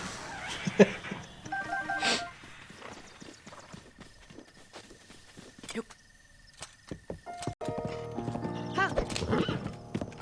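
Horse hooves clip-clop in Zelda: Breath of the Wild, with a loud whinny near the start, then steady trotting and several more neighs and snorts toward the end, over game ambience.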